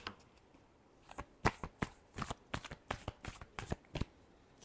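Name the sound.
shuffling tarot cards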